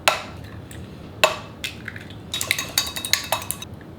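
Bratwurst sausage meat with eggs, heavy cream and milk powder being mixed by hand in a plastic tub liner, making sharp crinkly plastic clatters and rustles, sparse at first, then quicker and denser.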